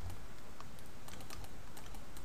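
Computer keyboard keys tapped in a quick, irregular run of light clicks, close and fairly quiet, while a 3ds Max modeling session is in progress; no voices.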